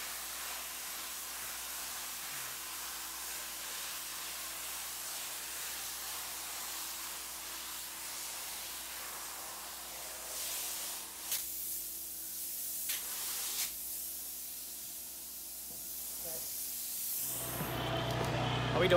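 A continuous hiss of spray foam insulation being applied in an attic runs nearly the whole time, broken by a few brief pauses, ending in a louder burst of spray noise.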